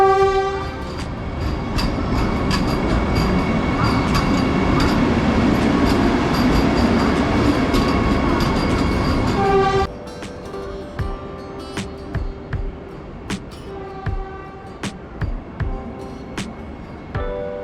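Vande Bharat Express at Bangalore KSR railway station, a loud rushing train roar with a sustained horn for about ten seconds, then rhythmic clickety-clack of wheels over rail joints as it rolls past more quietly.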